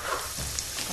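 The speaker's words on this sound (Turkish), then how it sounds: "Güzelce kızartacağız." Triangles of food sizzle in hot oil in a home kitchen, a dense, steady crackle that is close and fairly loud over a brief moment.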